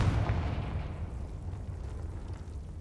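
A Confringo fire spell explodes in the video game Hogwarts Legacy, a single deep boom that opens the clip and then decays into a long, rumbling tail that lingers to the end, with no talking.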